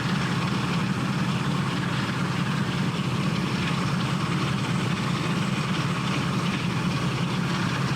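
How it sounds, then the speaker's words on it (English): Class 45 diesel locomotive engine idling in the Train Sim World 6 game, a steady low rumbling drone with constant loudness and no speech. "So we get the sound of the engines."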